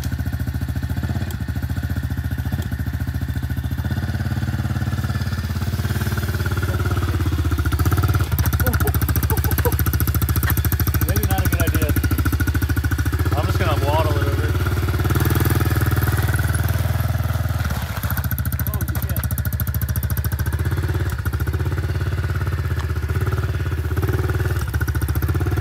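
Pit bike dirt bike engine idles and revs continuously close by, a buzzing, rattly single-cylinder drone that swells slightly in places over about twenty-five seconds, with faint background voices.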